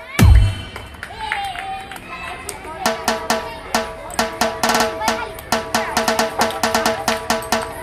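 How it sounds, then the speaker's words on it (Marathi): Schoolchildren in a classroom clap for a classmate after a pencil-in-bottle activity, with scattered irregular claps building from about three seconds into steady rhythmic clapping, mixed with a faint background of chatter and voices. "टाळ्या वाजवा रे, टाळ्या वाजवा याच्यासाठी."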